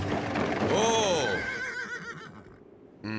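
Cartoon horses neigh in a loud, wavering whinny that rises and falls over about a second, backed by a busy, rumbling scene and followed by fainter clattering; a sharp burst of noise ends it.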